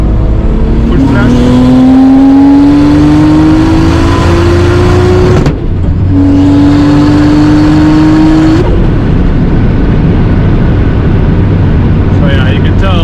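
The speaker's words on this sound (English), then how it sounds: "So we're going to do a 4th gear pull from around 100 kilometers per hour." Toyota Supra turbo engine pulling hard in fourth gear from around 100 km/h, loud rising engine drone that climbs steadily, breaks off briefly for a shift, then climbs again before backing off into rumbling road noise.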